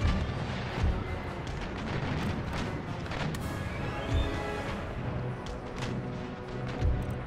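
Cannon firing round shot in the Empire Total War game, a dense run of booming artillery blasts and thuds with a battlefield rumble, loud and continuous throughout.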